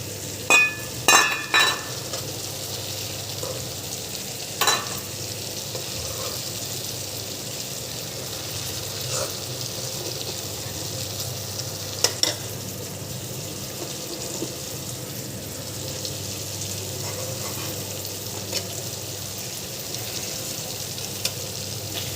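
Tangra fish being stir-fried (bhuna) in a pan, a steady close frying sizzle with occasional scrapes and clicks of a spatula, a few sharper taps near the start.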